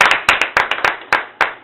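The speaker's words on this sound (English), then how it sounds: "Please, a round of applause for all the contestants." A close group claps for the contestants at an evening event. Sharp, separate handclaps fall in an uneven rhythm, loud and near, with no talking.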